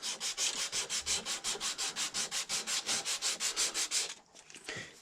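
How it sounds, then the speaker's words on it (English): Sandpaper worked back and forth over the wooden plug of a powder horn in fast, even strokes, about five per second, close and alone, stopping abruptly near the end with some lighter handling afterward. "I'm going to sand the plug a while"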